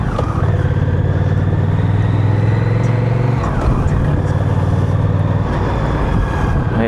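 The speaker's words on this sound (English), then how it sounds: "Gears feel good. Got a nice clonk to them, but not too hard." A Honda Rebel CMX 1100 motorcycle rides along with a steady, loud engine drone and wind rush, the pitch dropping briefly midway as a gear shift comes through.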